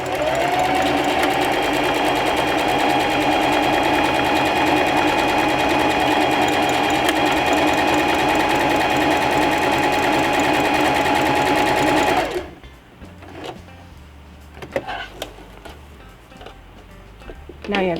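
A Singer Heavy Duty sewing machine stitching an automatic buttonhole runs loud and steady with a fast mechanical whir, then stops abruptly, leaving quieter ticks and clicks.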